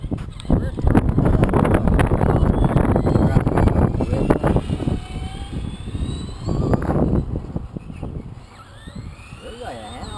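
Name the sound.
RC Skully monster truck motor running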